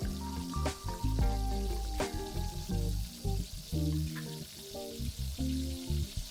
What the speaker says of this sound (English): Now let's add the chops with the stock. Mix this well.